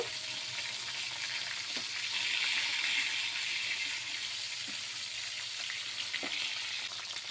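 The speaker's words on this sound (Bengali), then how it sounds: "মাছগুলোকে একটু লাল লাল করে ভেজে নেব।" Pieces of catla fish, rubbed with salt and turmeric, fry in oil with a steady bright sizzle and soft crackle, moderately quiet and continuous, with a few faint clinks from a utensil.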